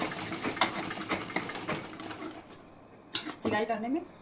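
A sewing machine stitches a blouse with a rapid, rhythmic clatter close by, stops, and then someone briefly speaks.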